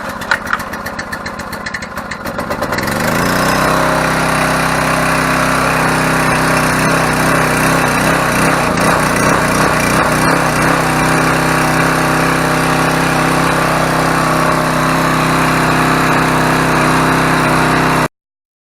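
A Coleman Powermate Pulse 1750 portable generator is pulled over and catches, its small engine settling into a loud, steady running drone that continues unbroken, with no talking.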